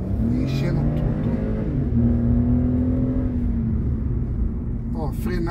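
A 2023 Hyundai HB20S Platinum Plus accelerating at full throttle inside a shopping-centre track, its engine droning loud and steady with a rising whine held for several seconds, close up from the cabin.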